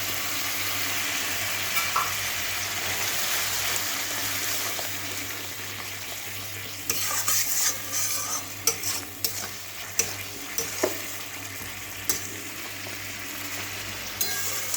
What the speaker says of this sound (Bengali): মশলাটা ততক্ষণ পর্যন্ত ভাজবো যতক্ষণ তেল না ছেড়ে দেয়